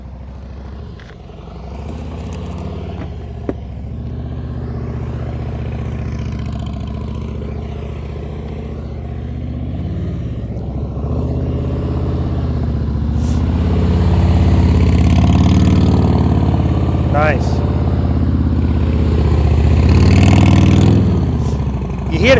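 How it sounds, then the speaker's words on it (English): A motorcycle engine during slow-speed riding practice, its throttle rising and falling in small corrective blips as the rider balances through tight turns, steady and fairly close, with a brief spoken remark over it. "You can hear in his throttle the corrections that he makes."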